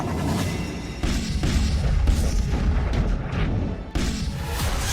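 A heavy, sustained rumbling blast of bombs exploding in a basement bunker during a military strike, with several sharp booming bursts, loud and dense throughout, with no voices.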